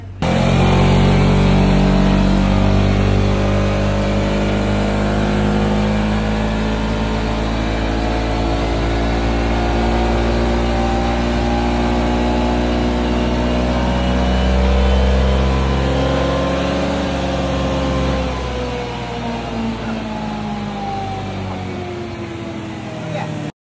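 A Yamaha XMAX V2 scooter with a modified pulley revs on a dyno, its engine climbing steadily through a long, loud pull before easing off at the end, with people talking faintly underneath.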